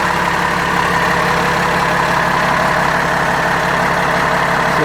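A 2019 International rear-engine school bus engine idles with a steady, loud diesel rumble and hum, running evenly and close by without any voices.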